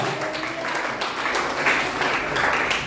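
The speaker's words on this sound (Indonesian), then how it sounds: "Ayo beri tepuk tangan bagi Tuhan." A church congregation claps for God during a sermon, a dense, loud wash of many hands that stays steady throughout, with faint voices mixed underneath.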